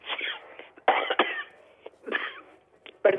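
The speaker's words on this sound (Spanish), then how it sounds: "Perdona. Un poco de tos." A woman coughs several times in short, close bursts, an allergy cough with brief pauses between the fits, in a quiet studio setting.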